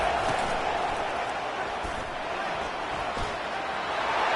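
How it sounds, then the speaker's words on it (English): Loud, steady roar of a stadium crowd at an American football game, cheering the defense on third down, sustained without a break and swelling slightly toward the end. "Decibels rising as the crowd gets behind this defense on 3rd down."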